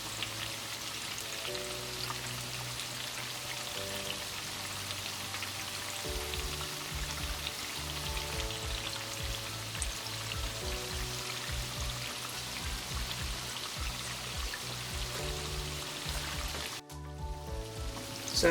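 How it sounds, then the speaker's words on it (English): Steady, crackling sizzle of Nigerian sweet buns deep-frying in hot oil, a dense patter of pops continuing evenly, with a brief dip near the end. "It's been frying for almost 9 minutes now."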